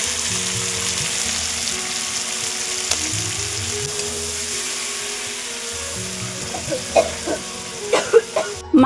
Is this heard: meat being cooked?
yes